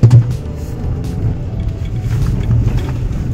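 A Ford Bronco Sport in sand mode drives along a dirt road, its engine a steady low rumble with road and tire noise, loud and close throughout with no talking.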